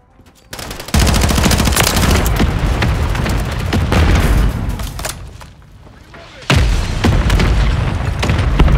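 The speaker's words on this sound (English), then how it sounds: "Friendly mortar strike on the way." Friendly mortar strike explosions in Call of Duty: Modern Warfare III multiplayer hit as loud, heavy, rapid booms and rattling blasts. They fire in two dense bursts with a brief lull between.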